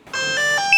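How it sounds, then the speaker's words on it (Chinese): A short electronic startup chime of bright, sustained tones that swell after a brief silence, ending on a higher note, close and clear. "开机音乐有了啊"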